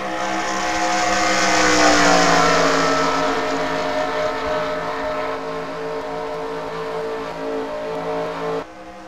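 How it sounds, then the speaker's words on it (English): A pack of NASCAR stock cars roars past in a video game race, the engine drone swelling to a loud peak and then falling away in a long pass-by with no voices, before a sudden drop in level near the end. "We head back to the front as they're rounding off turn 3."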